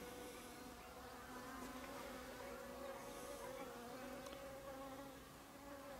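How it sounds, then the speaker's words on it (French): A steady, low drone of many bees buzzing close by near hives in a flowering orchard, continuous and even throughout, like a busy swarm. "On peut voir le va-et-vient des abeilles dans les rayons du soleil là."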